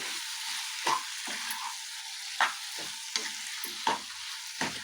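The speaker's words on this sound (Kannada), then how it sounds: "ಟೊಮೊಟೊ ಹಾಕಿದ್ಮೇಲೆ ಚೆನ್ನಾಗಿ ಮಿಕ್ಸ್ ಮಾಡಿ" Chopped tomatoes stirred in a hot pan for Hyderabadi dum biryani hiss and sizzle steadily, with a spoon scraping through them in regular strokes about once a second.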